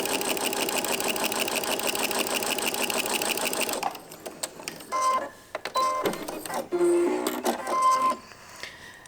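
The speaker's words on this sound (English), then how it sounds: "So I'm just stitching down this edge here." A sewing machine stitches down a fabric seam edge with a fast, steady mechanical whir, then runs in short bursts with pauses and small clicks, close and clear.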